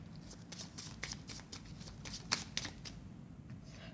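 Tarot cards shuffled by hand during a reading, giving a run of soft, papery riffling bursts with a few sharper snaps near the middle, close and fairly quiet, with no talk over it.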